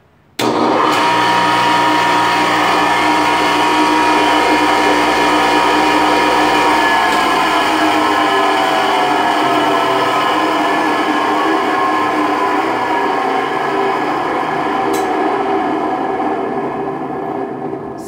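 A homemade router (tupia) runs steadily with a vibrating milling bit, giving a loud, continuous motor whine and hum with no pauses or other sounds.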